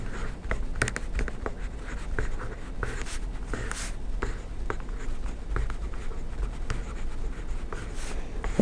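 A pen scratches steadily across a sheet of paper while circuit equations are worked out by hand. The writing is quiet and close, with short strokes and brief pauses, and nobody speaks.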